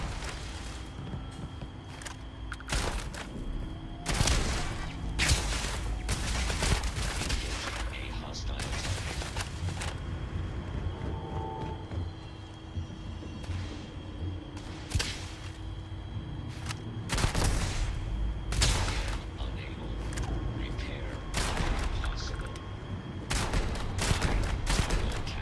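Gunfire from a Starfield shootout against robots, with repeated loud sharp shots and bursts spread across the stretch, mixed with mechanical clanks and whirs, while someone talks at times.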